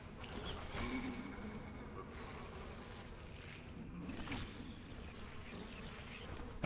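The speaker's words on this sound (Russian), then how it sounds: "Кругом можно видеть огромное количество мух и разлагающиеся трупы" Flies swarming around rotting corpses in Sekiro: Shadows Die Twice, a steady, faint insect buzz with droning wingbeats rising and falling over a low ambient rumble, no voices.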